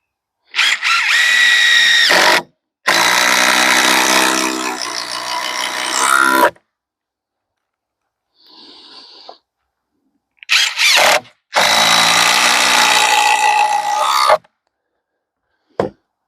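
A power drill drives screws down through hardwood into softwood beneath on a slab wood rack for a sawmill, with several long loud whirring bursts separated by pauses, plus a short faint squeal in between.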